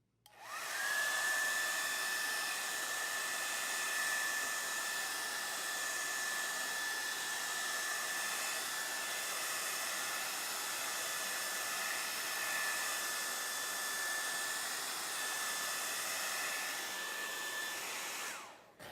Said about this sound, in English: to speed it up, we're gonna just go ahead and use the blow dryer.